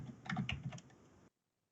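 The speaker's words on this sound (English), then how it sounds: "You guys hear all my keystrokes, can't you?" Computer keyboard keystrokes typed in a quick burst of several clicks and taps, close and fairly faint, stopping abruptly after about a second into silence.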